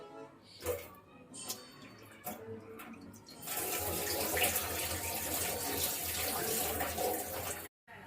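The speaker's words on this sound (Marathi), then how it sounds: "फ्लावर धुवून घेते आता स्वच्छ असं धुवून" Clattering handling noises give way to a steady rush of running tap water, close and continuous, with cauliflower being rinsed under the stream.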